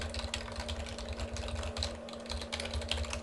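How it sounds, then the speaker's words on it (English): Fingers type on a computer keyboard in quick, uneven bursts of soft clicks, faint and close, over a steady low electrical hum, with nobody speaking. "Keyboard."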